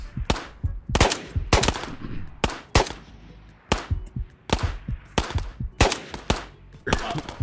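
Gunfire in the video game Ghosts of Tabor, including an SKS rifle, with sharp, loud shots fired in quick bursts and irregular clusters at close range, about a dozen distinct volleys, no speech.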